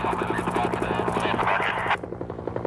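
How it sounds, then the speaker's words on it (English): A firefighting helicopter carrying a 250-gallon water bucket flies over a wildfire, its rotor beating as a steady loud thrum that cuts off sharply near the end, with a voice speaking under it. "Each helicopter carries a huge bucket holding 250 gallons of water."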